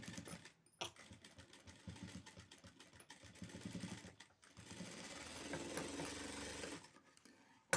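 A sewing machine stitching fabric for a blouse, running in quick uneven bursts with brief pauses, close and fairly quiet, with no talking.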